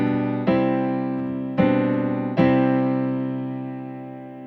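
Three piano chords are struck one after another, each ringing out and slowly decaying, played alone and clearly.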